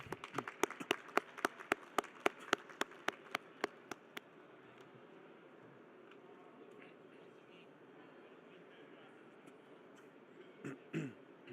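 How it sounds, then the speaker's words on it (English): Claps ring out at a conference award ceremony at FITUR 2026 as a certificate goes to the general manager of the Istanbul Convention and Visitors Bureau. A dozen or so crisp, evenly spaced claps last about four seconds, then settle into a low room murmur. "A round of applause for him."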